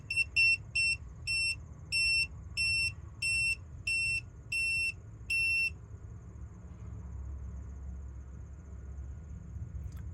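A handheld combustible gas detector sounds its alarm: nine sharp, high electronic beeps in a quick regular series, up close, then silence over a low background hum.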